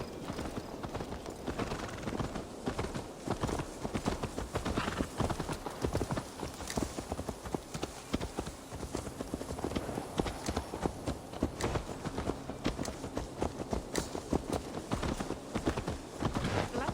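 Horse hooves clip-clop steadily in Assassin's Creed Valhalla, a continuous rhythmic trot of close hoofbeats on a hard path with a light ambient game backdrop and no voices.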